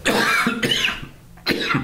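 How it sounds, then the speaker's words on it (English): Two harsh coughs, close and loud, separated by a short pause, the second breaking off abruptly. "I'm going to cough again"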